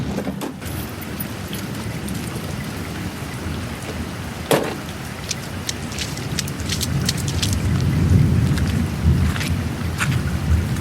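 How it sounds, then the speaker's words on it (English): Heavy rain pours down steadily outdoors beside a parked car, a dense roaring hiss with scattered sharp drips and splashes, swelling slightly louder toward the end. "This rain just came out of nowhere"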